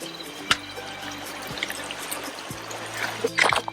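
Footsteps wade through a shallow river crossing on a desert backpacking trail to a hot springs oasis, with water splashing and trickling around each step and a few sharper splashes near the end.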